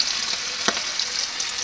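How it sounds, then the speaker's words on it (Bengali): Aar fish pieces frying in hot oil, giving a steady, bright sizzle throughout, with one short soft knock partway through. "তেলটা গরম হয়ে গেছে, মাছগুলো তেলে ছেড়ে দেবো"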